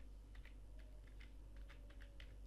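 Keyboard typing in a quiet room, a run of light, irregular key clicks heard up close with no talking over a steady low background hum.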